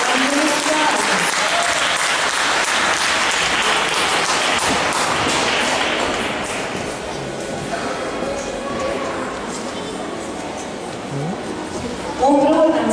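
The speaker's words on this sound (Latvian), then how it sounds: "Es gribētu arī šiem cilvēkiem palūgt aplausus" An audience at a children's sports award ceremony breaks into dense, sustained applause that stays loud for several seconds, then thins and fades, with voices mixed in.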